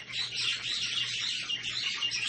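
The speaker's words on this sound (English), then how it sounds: "Birds are having a heyday over there." Dense, continuous bird chirping fills the air, many small birds twittering at once, fairly close and steady with no voices.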